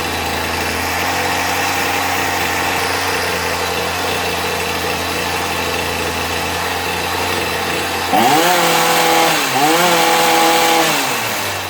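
A Poulan Pro 2-stroke hedge trimmer engine idles steadily and loudly up close, its small motor buzzing continuously before two brief revs near the end.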